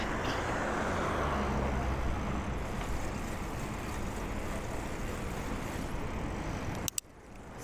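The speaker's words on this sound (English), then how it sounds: "Car coming up on my left." A car passing a cyclist on a road, a broad engine and tyre roar that is loudest at first and slowly fades, with wind buffeting throughout and a sharp knock near the end.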